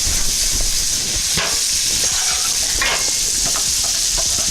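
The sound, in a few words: leftover spaghetti sizzling as it goes into the pan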